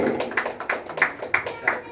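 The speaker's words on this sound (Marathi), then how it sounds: "जोरदार टाळ्या होऊन जाऊ दे." Applause at a felicitation ceremony: a short run of evenly spaced, sharp hand claps about three per second, fairly close, with voices mixed in.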